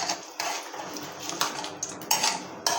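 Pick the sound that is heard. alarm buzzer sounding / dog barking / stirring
stirring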